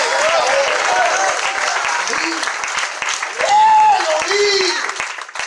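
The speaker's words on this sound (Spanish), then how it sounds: "Fuerte este aplauso y diga gloria a Dios" Loud applause from a church congregation, a sustained wash of clapping with voices calling out over it, swelling briefly before fading toward the end.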